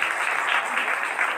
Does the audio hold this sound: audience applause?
yes